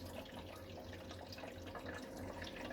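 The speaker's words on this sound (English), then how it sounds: "So slowly turn this on. See the water going in." Water flows steadily into a media reactor canister on a saltwater aquarium, a soft, continuous gurgling trickle heard close and quiet, with no talk.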